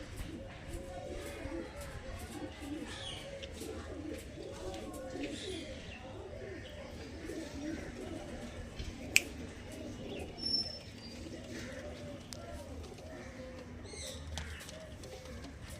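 A pair of pigeons coos quietly and continuously under ongoing talk outdoors, with one sharp click partway through.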